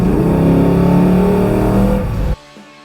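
Remanufactured Chevelle accelerating hard on a ride, a loud, close, steady engine roar with strong low harmonics that holds, dips slightly near the end, then cuts off abruptly.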